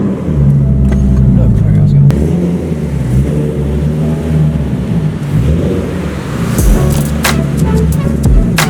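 A Nissan 370Z with a Tomei aftermarket exhaust revs and rumbles loudly and deeply nearby, rising and falling with throaty roars and sharp crackles, no talking heard.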